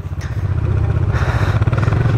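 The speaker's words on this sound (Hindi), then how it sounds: "बाइक चल चुकी" Motorcycle engine idling and revving steadily as a ride begins on the route over Zojila Pass in Ladakh, a continuous close, loud low rumble with no talking.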